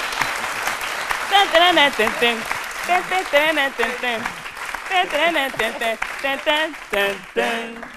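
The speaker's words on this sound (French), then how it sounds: "on va quand même t'applaudir" An audience in a radio studio claps and applauds with dense, steady clapping throughout. Voices talk over it, and some of it rises above the applause.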